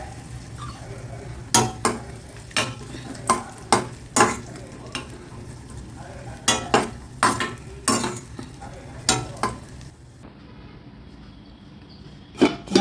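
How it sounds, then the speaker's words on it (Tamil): Cashews and raisins roasting in a pan, a spoon scraping through them in a dozen or so sharp, irregular strokes over a low steady sizzle, close and fairly loud, ending in a quieter stretch. "முந்திரி பருப்பு வறுத்தாச்சு திராட்சையை போட்டுக்கலாம்"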